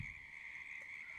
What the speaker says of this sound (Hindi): मेंढकों की आवाजें आने लगी, टर टर की आवाजें।